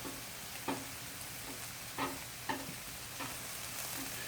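Chicken fried rice made with short grain rice sizzles steadily in a pan while a utensil scrapes and stirs it in several distinct strokes, close up with no talking.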